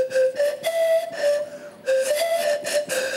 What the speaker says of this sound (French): Qu'est-ce que ça donne quand on joue de la flûte de Pan?